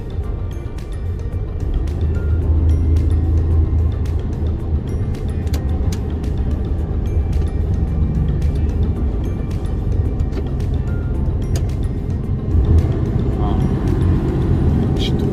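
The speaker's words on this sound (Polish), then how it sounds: "on nie ma tego pełnego retardera tylko ma ten taki hamulec silnikowy to on bardziej pierdzi niż hamuje" A Mercedes transport truck's engine brake makes a low, continuous rumbling, sputtering drone inside the cab, steady and fairly loud, with a voice talking over it.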